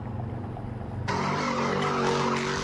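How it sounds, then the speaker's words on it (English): Cars swerving and skidding during a street takeover in downtown Milwaukee: a steady engine rumble, then a sudden loud surge of tire noise and revving that holds to the end, close and unbroken, with no talk. "Video circulating on social media shows one of the latest street takeovers swerving around downtown Milwaukee"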